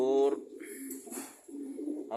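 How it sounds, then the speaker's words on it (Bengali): A female racing pigeon gives soft, close cooing in low throaty pulses broken by brief pauses, with a voice talking over it. "এই যে উপরের এই যে কবুতরটা দেখতেছেন, মাদি কবুতর, এটা একটা রেসার মাদি কবুতর"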